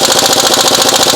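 A pneumatic impact wrench hammers a lug nut tight during a tire change, producing a loud, continuous rapid rattling buzz close by, with no one speaking.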